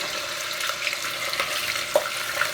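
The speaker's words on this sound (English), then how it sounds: "my oil is a little hot, so I'm going to go ahead and drop my ham pieces" Ham pieces dropped into hot oil in a pan while cooking green beans, giving a steady close sizzle and crackle with a few small pops, continuous and moderately loud with no talking.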